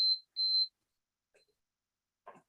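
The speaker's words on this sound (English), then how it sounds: "When the timer runs out, this is the sound you'll hear." A timer goes off to signal that time is up: a short high electronic beep, then a longer steady beep, followed by near silence with a couple of faint, brief noises.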